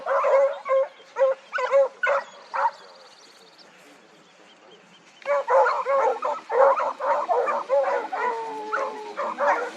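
Hunting dogs bay and bark in bursts while working a scent trail outdoors, close and loud, falling quiet for a few seconds before a pack of overlapping yelps and barks resumes.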